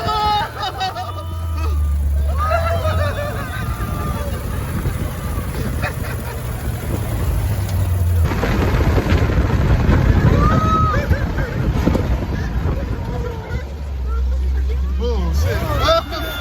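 Dune buggy speeding over sand dunes in the desert at Huacachina, Peru, with a loud rumbling engine and wind roar, under excited shouting and chatter from riders throughout.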